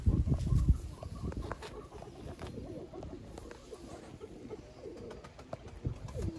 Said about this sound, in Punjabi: ਟੈਡੀ ਕਬੂਤਰ